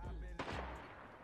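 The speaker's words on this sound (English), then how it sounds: "Oh, I hear gunfire coming." Gunfire in the Fortnite video game: a quick burst of shots, a low thump then a sharper crack, fairly faint and over within a second.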